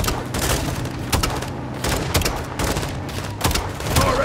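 Rapid explosions and gunfire crackle through a Call of Duty Modern Warfare 2 campaign firefight, with launcher blasts bursting repeatedly over dense, continuous battle noise at close range.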